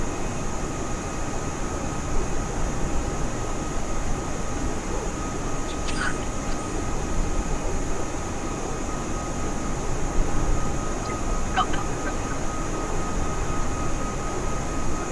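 A steady, droning cabin hum of an A320 airliner cruising in Microsoft Flight Simulator, a constant broadband engine and airflow roar with a faint tonal whine and two brief high clicks.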